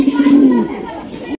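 A Lahori pigeon at a pigeon farm gives a single close, low, drawn-out coo that falls in pitch, with voices around it.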